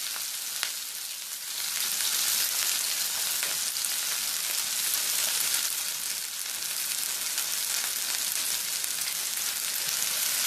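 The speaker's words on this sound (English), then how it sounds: "Give that a little stir." Onions and tikka masala fry and sizzle steadily in a pan while being stirred, a dense, continuous crackling hiss that stays loud and close throughout with no voices.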